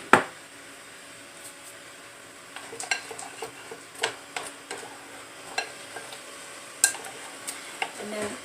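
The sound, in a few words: mixing ingredients with a pinch of salt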